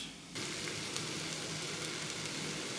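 Beef goulash ingredients sauté in a pan, sizzling steadily after a quiet start, with a continuous close frying hiss and faint stirring crackles throughout, no talking.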